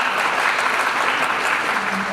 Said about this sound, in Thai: ขอเสียงปรบมือให้พี่เด่นตุ๊กตุนของเราอีกครั้งหนึงค ่ะ